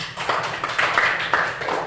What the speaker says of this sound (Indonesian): Boleh tepuk tangan dong untuk Astrid.